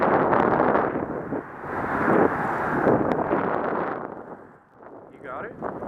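Strong wind blowing on a Biloxi fishing trip, a loud, continuous roaring rumble buffeting the microphone throughout, dipping briefly near the end.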